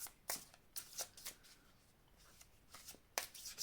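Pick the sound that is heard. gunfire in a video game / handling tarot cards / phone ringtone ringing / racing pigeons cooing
handling tarot cards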